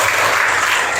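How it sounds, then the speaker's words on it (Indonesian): A class of ninth-grade Islamic studies pupils claps together, an even, continuous burst of many hands at close range, sustained and fairly loud for the full second. "tepuk tangan dulu buat kalian"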